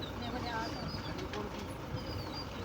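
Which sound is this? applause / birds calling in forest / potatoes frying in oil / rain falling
birds calling in forest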